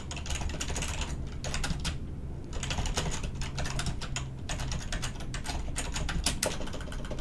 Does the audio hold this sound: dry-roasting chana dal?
no